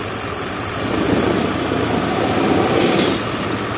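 A Honda Beat FI scooter engine runs with a dense, steady drone that swells louder when the throttle opens partway through, holds for a couple of seconds, then eases back. The sound is close and carries no talk.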